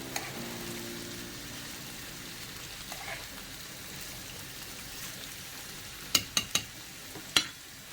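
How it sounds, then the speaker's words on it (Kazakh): Onion and carrot fry in hot oil for a manty gravy, a steady rain-like sizzle throughout with a few sharp clicks and pops near the end; no talking. "Жуан мен морковты қызып тұрған отта қуырамыз."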